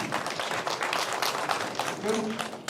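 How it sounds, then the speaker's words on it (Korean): Audience clapping at a regional policy forum on rural village communities, dense and steady throughout, with a brief voice near the end. "큰 박수 부탁드리겠습니다"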